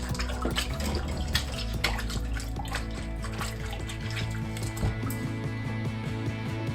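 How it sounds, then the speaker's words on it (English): Running tap water trickles and splashes steadily while hands are washed with bleach and dish soap, with soft squishing and dripping close by under a low background hum. "Wash my hands, some Javex and dish soap."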